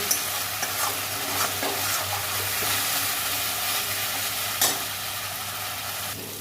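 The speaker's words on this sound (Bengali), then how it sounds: "মশলা আমার কষা হয়ে এসছে এবার জল ঢেলে দেব" Water poured onto fried spice paste in a pan sets off a loud, steady sizzle and hiss, broad and continuous with a few brief bursts of crackle and stirring layered in.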